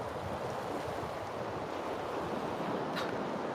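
Ocean waves wash onto a beach with wet sand, a broad steady surf hiss mixed with wind buffeting the microphone, faint and continuous with no voices.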